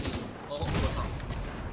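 Gunfire from a firefight in the video game The Division 2, a dense burst of shots over steady game noise with faint voices underneath.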